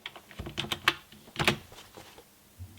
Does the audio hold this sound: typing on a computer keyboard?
yes